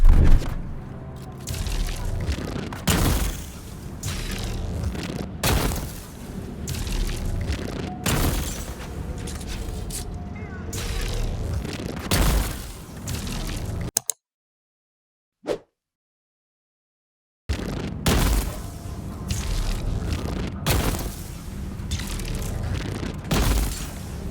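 The Disruptor, a charging weapon in the Dune Awakening video game, firing repeatedly in combat, with loud booming discharges at irregular intervals over continuous battle noise, broken by a brief silent gap.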